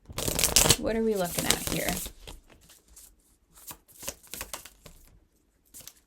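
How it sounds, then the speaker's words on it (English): Tarot or oracle cards being riffled and shuffled for a psychic love reading, a quick burst of papery flutter near the mic at the start, followed by someone talking in a quiet room with occasional card handling. "I feel like I have to shuffle again."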